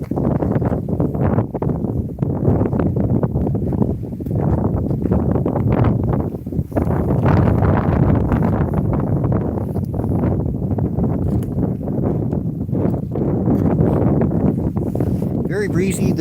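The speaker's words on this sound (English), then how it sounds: "Very breezy." Cold, breezy wind blows outdoors at night while people watch a total lunar eclipse in Atlantic Canada, making a steady, close buffeting rumble against the microphone throughout.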